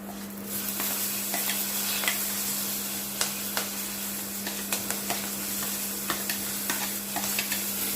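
Dal with green chilies and onion, for a drumstick and raw mango dal, is stirred in a hot pan. A constant close sizzle runs throughout, punctuated by light, regular spatula scrapes and taps against a low steady hum, with no talking.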